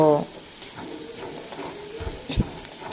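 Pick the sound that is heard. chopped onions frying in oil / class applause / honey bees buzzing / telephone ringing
chopped onions frying in oil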